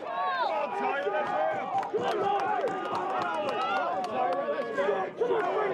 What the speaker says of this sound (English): A vast crowd here for Holt this afternoon